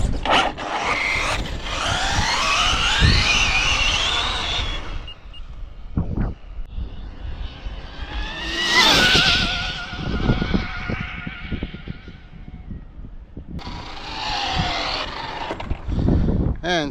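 RC car making high-speed passes, a sharp rising and falling whine sweeping by near then away, with bursts of loud motor noise, several onlookers talking between runs.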